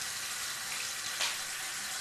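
Water runs steadily from a tap into a sink, a continuous broad splashing rush held at an even level throughout.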